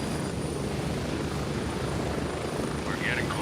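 A helicopter flies in Gray Zone Warfare, a loud steady rotor drone that stays constant throughout with no break.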